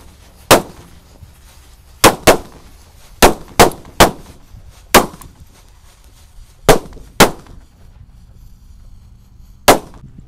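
Disco firecrackers set off inside a watermelon, a series of about eleven sharp, loud bangs at irregular intervals, some in quick pairs, over quiet background.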